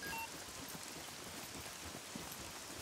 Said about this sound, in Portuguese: É, chuva infinita, né, mano?